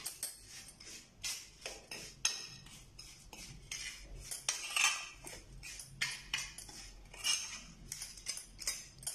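A spoon mixing masala and pickle spice with oil in a bowl for green chilli pickle, producing close, irregular clinks and scrapes in quick bursts with no talking.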